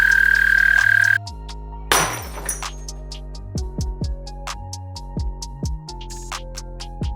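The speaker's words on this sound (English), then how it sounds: "the American toad." An American toad gives a loud, sustained high trill for about a second, then falls silent as a sequence of stepped tonal notes and pings takes over.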